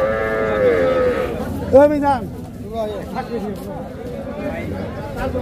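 A Sahiwal calf at a livestock market lets out a loud, close moo with a drawn-out bellow, over the murmur of nearby people talking.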